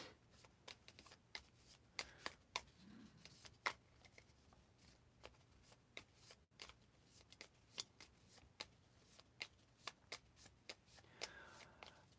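Game cards are shuffled at close range in a quiet room, making repeated sharp riffling bursts and soft flicks in an irregular rhythm, with faint whispering now and then.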